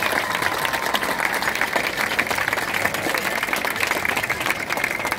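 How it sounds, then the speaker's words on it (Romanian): Steady crowd applause at an outdoor award ceremony of the 2023 Sibiu cycling tour, honouring the stage winner; continuous even clapping at moderate distance. "Congratulations, aplauze!"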